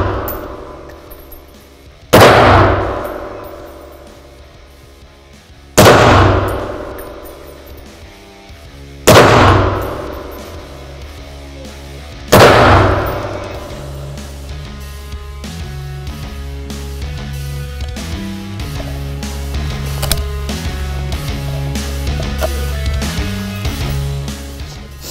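A KMR 7.62 sniper rifle fires at a test range: four loud, separate shots a few seconds apart, each with a long ringing echo, followed by a steady rumble of background noise.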